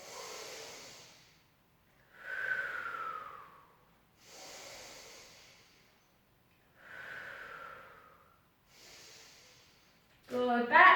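Slow, deep breaths during a Pilates plank sequence, with five long inhales and exhales alternating in a steady rhythm, close and fairly soft, ending on a brief louder sound.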